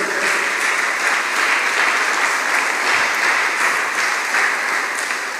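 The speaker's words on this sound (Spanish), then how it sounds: "Denle un aplauso a Jesús fuerte." A church congregation applauds loudly in a steady, continuous burst of clapping that lasts several seconds, filling the room without any speech on top.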